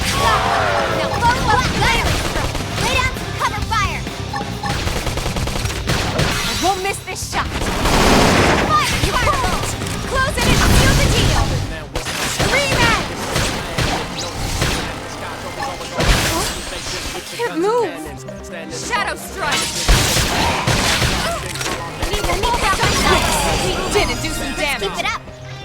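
Gunfire and explosive combat effects from Xenoblade Chronicles X, with bursts of shots, booms and crashes rolling almost continuously under an energetic game soundtrack and character voices.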